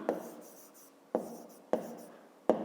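A pen writes by hand in a notebook during a fifth-grade maths exercise, giving four sharp taps at uneven intervals, each followed by a soft scratching trail, close and quiet with no voices.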